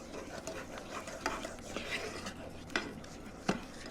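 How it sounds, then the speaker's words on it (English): A spoon stirs boiling mango jalapeno jam with pectin and sugar substitute in a pot, with steady scraping and a few sharp clinks against the metal, close and fairly quiet, no voices. "I'm stirring, it is still boiling away"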